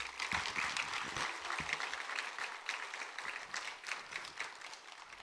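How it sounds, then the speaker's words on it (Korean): A church congregation claps in welcome for their pastor, a dense, steady patter of many hands that holds for several seconds at a moderate distance and tapers slightly toward the end. "우리 목사님 환영의 박수"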